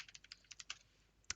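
Computer keyboard typing a terminal command in a Gentoo Linux install, a quiet burst of about ten quick, uneven key clicks ending in a sharper final keystroke, likely the enter key, with no voices.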